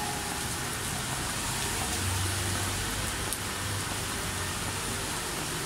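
Steady rain hisses evenly throughout, a dense wash of patter with a faint low rumble underneath and no voices, falling on a Monday in the Philippines.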